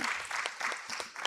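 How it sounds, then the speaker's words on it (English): Applause for panelists at an academic conference roundtable, a sparse, fairly quiet patter of clapping from a small audience, with individual claps distinct and uneven in rhythm. "Please join me in giving our panelists a round of applause."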